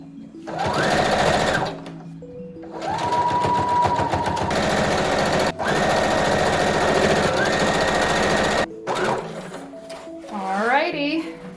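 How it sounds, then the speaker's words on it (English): A sewing machine top stitching the back seam of a circle skirt runs in long, close bursts with a brief pause between runs, its motor whine shifting pitch as it speeds up and slows. "Do you think I can top stitch the back without ruining everything?"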